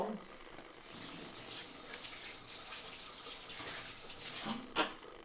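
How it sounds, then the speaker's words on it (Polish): Tap water runs steadily while a steak is rinsed under it before it goes in the pan, a faint continuous hiss of splashing water with a brief louder gush near the end. "na jednej będzie leciał zaraz stek, którego sobie jeszcze przemyję wodą"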